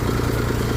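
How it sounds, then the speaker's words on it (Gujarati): A tractor-driven cumin thresher runs with a loud, steady mechanical drone and rattling hum, close and unbroken for the whole moment. "તો મિત્રો, આવું છે થ્રેસર."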